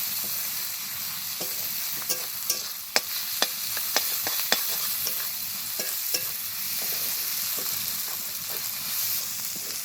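Ginger-garlic paste stirred into fried onions in a hot pan, a constant sizzling hiss with a series of sharp spoon scrapes and taps at an uneven rhythm, close up.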